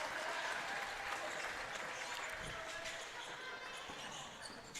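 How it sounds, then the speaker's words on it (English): A high school boys basketball crowd gives a standing ovation, sustained dense applause and cheering filling the gym at even loudness throughout, with faint voices mixed in. "Nice hand from the crowd. Standing ovation."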